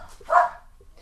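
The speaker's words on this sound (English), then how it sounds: "Sorry, that's my dog" A single short, close dog bark, loud and abrupt, with faint background noise around it.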